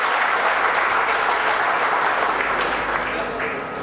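Audience applause at a business conclave, dense steady clapping from a large seated crowd filling the room, holding loud and then easing slightly toward the end.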